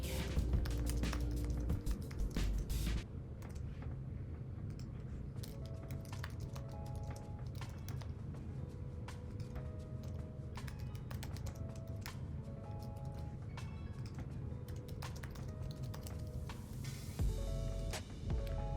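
Fast, steady clicking of computer keyboard keys being typed, close and fairly quiet, continuing without pause with occasional brief gaps.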